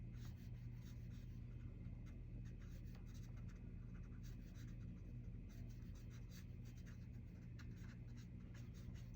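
A pencil makes hatching marks on paper while drawing small trees, a faint, steady scratching that runs continuously over a low background hum.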